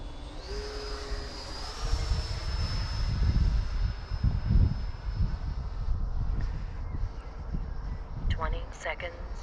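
A QT Models T45 Hawk model jet makes a slow pass with flaps and gear down, its steady whining turbine tone holding constant with a rumbling undertone, while people talk nearby.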